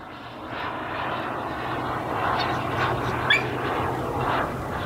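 A radio-controlled jet plane drones overhead in flight, a steady engine whine that swells and fades in waves as it passes at a moderate distance, with no talking.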